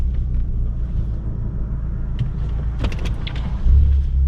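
A modified Fiat 500 Abarth with a big turbo rumbles along on a cruise, its steady low engine drone continuous and close, swelling slightly louder near the end, with a few faint clicks and rattles inside the cabin.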